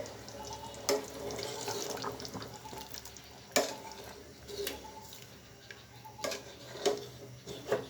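Lukewarm water pours and splashes into a pot of cooking broiler chicken in a few bursts, with faint clinks and steady running-water noise throughout.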